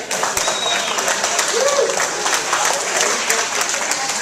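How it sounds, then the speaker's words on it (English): A crowd at an Armed Forces Day ceremony gives veterans a round of applause, steady and full clapping that lasts the whole stretch, with a voice faintly audible beneath it. "Let's have a nice round of applause for our veterans."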